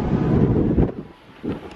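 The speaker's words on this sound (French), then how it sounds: "il y a beaucoup de vent, très venteux" Strong wind on a hilltop in Torquay, Devon, rumbles against the microphone in low buffeting gusts that ease for a moment, then surge again.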